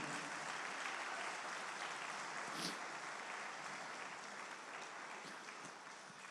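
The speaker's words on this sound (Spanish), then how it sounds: "Dele fuerte aplauso al Señor." Steady applause from a congregation at a church service, a continuous wash of clapping lasting about six seconds at moderate, slightly distant level.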